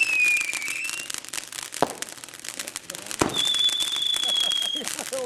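Fireworks going off all at once, some on a road, with sharp pops, crackles and two whistling rockets rising over steady outdoor noise, plus two distinct loud bangs.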